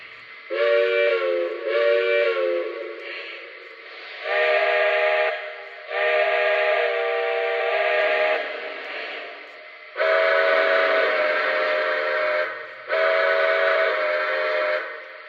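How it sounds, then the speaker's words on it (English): A Lionel Legacy L1 model train steam whistle sounds in five separate blasts, each one to two seconds long, with short silent gaps between them. "I think some of the whistles sound really good."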